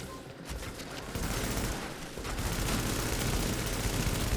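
Rapid bursts of automatic gunfire in the video game The Division fill a dense, sustained barrage that intensifies partway through, loud and continuous with no talking over it.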